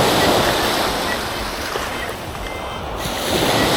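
Ocean surf washes steadily on a beach where someone wades with a metal detector, a broad continuous roar with a brief swell at the start and end, no voices.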